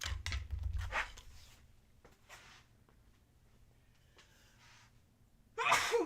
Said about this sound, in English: I got the tickles, I've got the sneezes tonight.